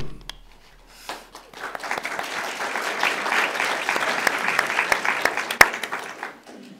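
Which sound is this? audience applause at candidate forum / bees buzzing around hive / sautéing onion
audience applause at candidate forum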